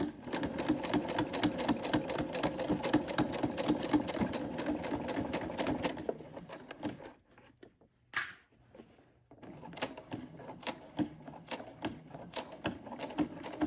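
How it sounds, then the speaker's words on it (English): A sewing machine stitches forward and then in reverse across a zipper pouch: about six seconds of fast, close mechanical rattling, a short pause with a sharp click, then more bursts of stitching. "Put your needle down and go ahead and stitch forward and reverse."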